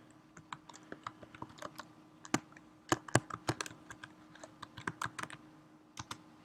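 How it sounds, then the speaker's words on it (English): Computer keyboard typing, a name being entered as a lookup search: irregular bursts of close, crisp key clicks, some louder strokes clustered mid-way, with no voices. "if I were to type in, say, Aaron Rodgers"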